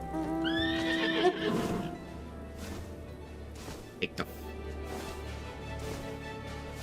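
A horse mount in Final Fantasy XIV gives a loud neigh at the start, followed by a few hoof clops over game music and ambience.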